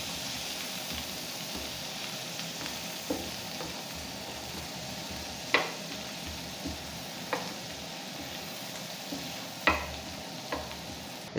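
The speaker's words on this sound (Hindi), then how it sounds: "अब हम इसे हल्का सा फ्राई करेंगे।" Ingredients for a bread omelette fry lightly in a pan, a steady soft sizzle with occasional stirring clicks and scrapes.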